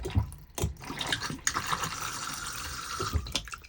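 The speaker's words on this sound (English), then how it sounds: "flush fluid, which is basically just fresh water, pumps around the bowl" A motorhome cassette toilet in a Burstner Ixeo 586 flushes as fresh water is pumped around the bowl, a close, steady rushing swish with a few clicks and knocks.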